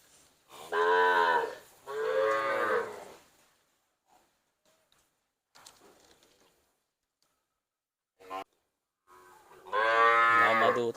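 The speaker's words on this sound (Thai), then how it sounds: "อันนี้จะเป็นชุดวัวโคนะครับ วัวโคเข้าขุนนะครับ" Fattening cattle moo at a cattle and buffalo market in Wang Prachop, Tak province, Thailand: loud, close, drawn-out bellows, two together then another after a quiet stretch with faint shuffling.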